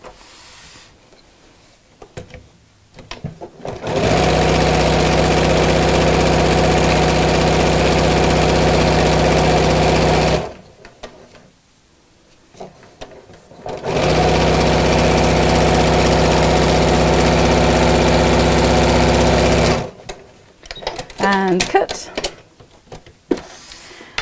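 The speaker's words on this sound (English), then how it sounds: "And sew straight across." A sewing machine stitching straight across fabric for a zipped coat hanger cover, running in two long, steady, loud motor bursts separated by a pause, with quiet handling noises between and after.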